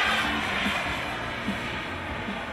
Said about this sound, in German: Ein Jet, Kampfjet aus französischer Produktion im Original.